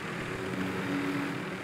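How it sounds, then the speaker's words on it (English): A helicopter in the video game Warzone drones with a steady, even rotor and engine hum, moderately loud and unbroken, with no voices over it. "We're in the helicopter."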